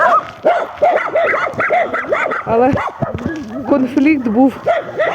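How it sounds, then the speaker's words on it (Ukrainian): Several dogs bark and yip insistently, near and overlapping, while people talk over the commotion. "вони просто гавкають свою територію охороняють"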